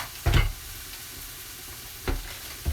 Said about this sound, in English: Now I'm going to add a bit of butter.